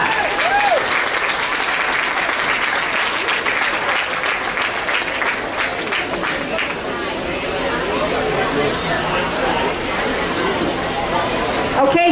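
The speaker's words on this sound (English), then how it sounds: "Let's give them all a round of applause." An audience at a youth swine show claps continuously in a large barn arena, dense sustained applause with scattered crowd chatter and occasional whoops throughout.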